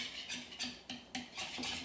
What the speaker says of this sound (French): je vais mélanger avec mon fouet pour bien venir